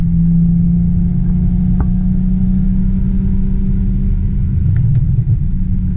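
A BMW 335i with a single turbo, stuck in third gear on a dyno, holds a loud, steady low engine rumble close up, with small clicks and a slight rise in tone near the end.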